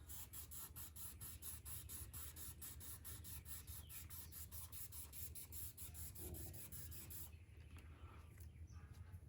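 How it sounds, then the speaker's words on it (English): Sandpaper works wet across automotive clear coat in quick, regular back-and-forth rasping strokes, steady and close for about seven seconds before stopping and leaving quiet background. "Keep that sandpaper wet."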